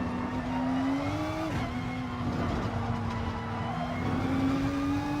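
A Renault Group 3 race car in Gran Turismo Sport drones steadily from the engine, its pitch dipping and climbing as it accelerates through gears, loud and continuous with no talking.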